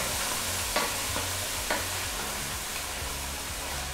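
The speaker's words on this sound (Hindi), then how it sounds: "मसाला भूनेंगे अब" Onion and tomato masala frying in a pan for vegetable biryani, a steady loud sizzle with repeated spatula stirring knocks and scrapes close by, no one speaking.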